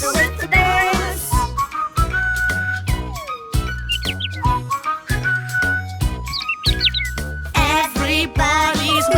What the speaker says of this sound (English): Let's whistle with the birds.